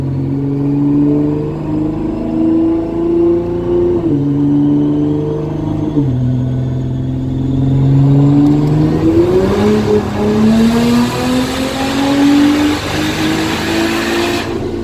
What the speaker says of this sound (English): I'm gonna let it warm up and then I'll come back with you guys.